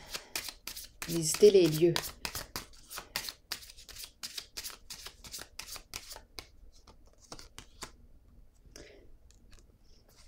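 Tarot cards are shuffled and handled up close, giving bursts of riffling and soft slaps and clicks in quick succession, with someone speaking French over much of it.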